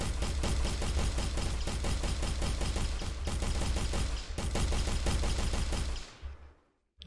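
Rapid, continuous bursts of automatic gunfire from an Unreal Engine 4 deathmatch video game, loud and dense, with a brief pause near the middle before cutting off near the end.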